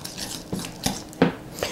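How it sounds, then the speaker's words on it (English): Spoon or whisk clinking and scraping against a bowl while mixing compound butter with salt and smoked paprika, four or five distinct knocks spaced irregularly over a quiet background. "I'm just going to go ahead and mix."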